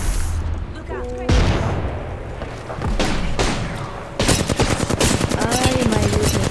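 Rapid automatic gunfire and heavy booms from an Apex Legends firefight, with heavy-ammo weapons in Season 5. Loud bursts come in waves with short gaps, and players' voices talk over the shooting.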